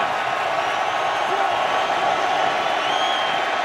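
A football crowd fills an indoor dome during a Vikings–Lions game with a dense, steady roar that holds loud throughout.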